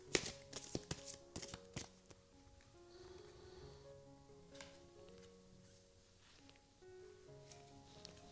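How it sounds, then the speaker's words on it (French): A deck of Archangel Raphael oracle cards is shuffled, giving a few soft riffling flicks and taps up close before gentle background music carries on alone. "je vais mélanger les cartes."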